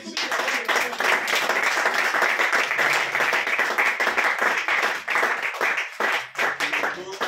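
Crowd clapping and applauding at a New Year's Eve church service, dense steady applause with a few voices mixed in near the end.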